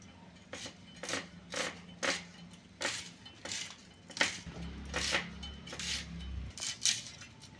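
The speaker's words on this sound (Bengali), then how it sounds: "পেঁয়াজটা আমি কেটে নেব" Onion being sliced with a knife on a cutting board for a Bengali prawn malai curry, giving a run of sharp, evenly spaced chopping knocks, close and fairly loud, with no talk.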